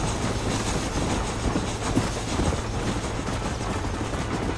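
A train in Red Dead Redemption rumbles along steadily with a dense mechanical roar and faint rhythmic clatter, continuous and moderately loud throughout.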